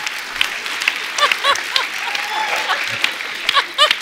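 Studio audience applause on a Hindi comedy talk show, a steady clapping wash over four seconds with brief cheers and whoops rising near the end.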